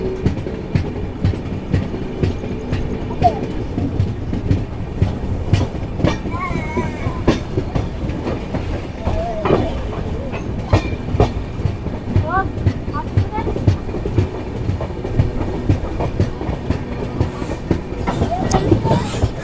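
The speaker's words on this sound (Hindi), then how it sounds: "मौजमपुर नारायण से पहले हमारी ट्रेन काफ़ी स्लो हो चुकी है" Link Express passenger train rolling slowly along the track in India, steady rumble with repeated wheel clicks over rail joints and occasional brief squeals, heard from on board; a voice speaks faintly at times.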